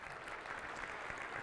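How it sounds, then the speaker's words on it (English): Steady applause from a conference audience, a dense even wash of many hands clapping at once, heard at a distance and fairly faint. "So give them a round of applause."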